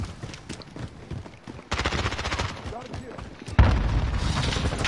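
Gunfire from Call of Duty Modern Warfare in a zombie-themed match, dense bursts of shots and booms that jump louder near the end, with a voice talking at times.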